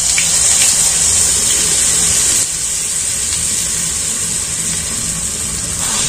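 Shredded potato snack dough sizzling and frying in a pan (kadai) as a steady, bright hiss that eases slightly partway through, close by with no talking.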